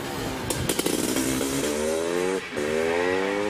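Austrian KTM motorcycle racing up the Prescott hillclimb, a loud engine revving in sharp bursts, then climbing through rising gear pulls with a brief lift-off before accelerating again.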